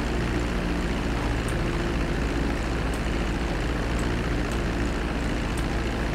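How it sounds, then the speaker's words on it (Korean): An airplane engine in the GTA 5 video game drones at a steady, loud, unbroken level, with a dense, even roar that has no pauses and no speech over it. "들어가자 비행기야."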